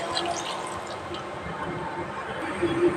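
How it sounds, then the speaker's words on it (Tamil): Water is poured into a pot of village-style goat head curry, already seasoned with coriander, chili and turmeric powder, to cook it through. The result is a continuous splashing, trickling fill at moderate loudness. "இப்போ தண்ணி கலந்துடலாம் வேகிறதுக்கு"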